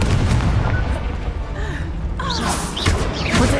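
The Incendio fire spell is cast during combat in the video game Hogwarts Legacy, bursting out as a loud, rumbling whoosh and boom with crackling magical effects trailing after it.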